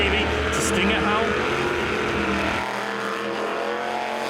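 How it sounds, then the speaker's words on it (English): An unlimited jet sprint superboat with a Stinger hull and a 410 Whipple supercharged Chevy engine races at a Wanganui, New Zealand event. Its loud, steady engine roar runs throughout beneath a commentator's talk. "This is a 410 Whipple supercharged Chevy."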